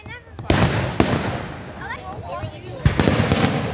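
Fireworks burst during a Fourth of July celebration, with several sharp cracking bangs spaced across the moment and a crackling tail between them, while people talk and exclaim nearby.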